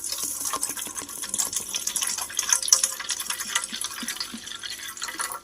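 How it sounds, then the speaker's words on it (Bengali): Water poured from a container onto sugar for bael and lemon sherbet, a continuous bright splashing and trickling stream lasting several seconds, close and moderately loud, with no talking. "চলো এবার জলটাকে নিয়ে নেব, পরিমাণ মতন জলটা আমি নিয়ে নিচ্ছি এখানে।"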